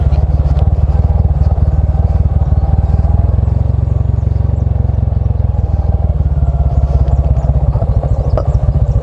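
A motorcycle engine runs steadily throughout on a rough road to Butas Butas Beach in Mauban, Quezon, with a low droning rumble and some rattling clatter from the ride.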